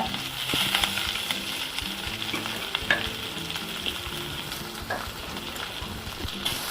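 Steady oil sizzle with onions and curry leaves frying, constant crackle and occasional stirring scrapes and clinks, close and fairly loud, no voices.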